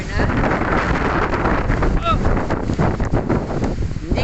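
Strong wind buffets an outdoor cellphone stand, a loud continuous rumble and roar across the whole clip with gusty swells, while voices talk underneath.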